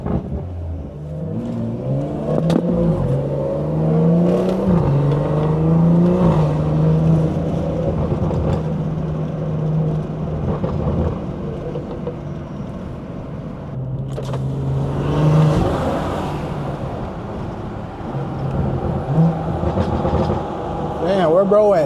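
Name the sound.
BMW B58 engine stage 2 exhaust revving while driving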